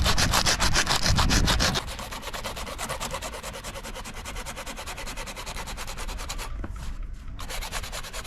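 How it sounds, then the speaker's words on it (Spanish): Grit-60 sandpaper rubs back and forth over an inflatable dinghy's surface aboard a boat, close and rhythmic, with quick even strokes after a heavier opening stretch. "lijamos con delicadeza la zona. Yo usaré una lija de grano 60"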